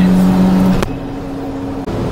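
Mitsubishi Bravo microvan accelerating on turbo boost, a steady engine drone heard from inside the cabin with a shift in pitch partway through.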